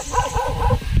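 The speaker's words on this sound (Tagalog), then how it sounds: "tumatahol yung aso" Outdoors during a spider hunt, a dog barks at strangers with rough, repeated barks that sit in a noisy, rumbling background and are partly masked by it.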